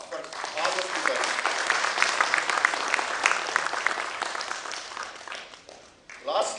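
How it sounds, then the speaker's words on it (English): A conference audience gives sustained applause for its speakers, a dense wash of many hands clapping at a fairly distant, moderate level. It fades briefly near the end and then swells again. "give a big round of applause for all the speakers"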